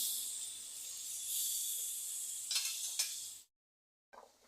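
Kakrol curry with a cup of water added comes to a boil, giving a steady bubbling hiss and sizzle that swells slightly, then two brief louder bursts before it cuts to silence and a short return.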